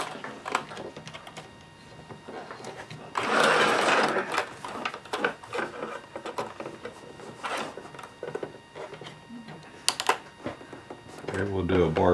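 A sewing machine fitted with a walking foot stitches a pair of shorts, running in short, uneven bursts with a louder sustained run near the start and a final stretch at the end, with pauses and handling noises between.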